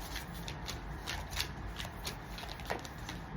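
Tarot cards shuffled and riffled by hand in a quiet room, a steady run of soft papery flicks and slaps with a few sharper bursts, close and moderately loud with no talking.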